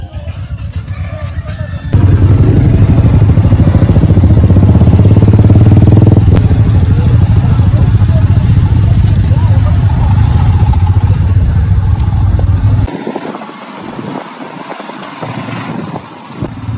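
Motorcycles ride off-road through a dark forest at night, their engines a loud, steady close drone mixed with wind rumble that drops away in the last few seconds, with voices faintly underneath.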